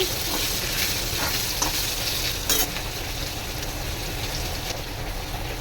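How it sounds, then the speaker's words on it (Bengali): Potato pieces fry in a pan of hot oil seasoned with bay leaf, cumin and a dried red chilli, a steady close sizzle with faint stirring scrapes throughout and no talking. "এবার এটাকে একটু ভাজা করে নেব"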